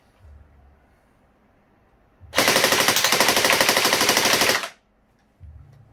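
A Well M4 gel blaster firing on full auto, a loud, steady rapid burst of shots lasting a couple of seconds, close by and alone.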